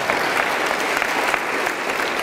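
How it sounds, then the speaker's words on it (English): Audience clapping at a public lecture in the Kenema District City Hall, a brief burst of steady, dense applause from a crowd. "We must clap for ourselves."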